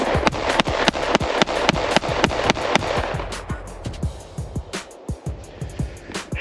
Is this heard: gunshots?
yes